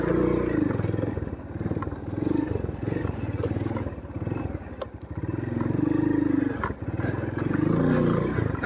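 A motorcycle engine drones steadily and loudly as the bike climbs a hill road, with the revs rising and falling and wind buffeting the microphone throughout.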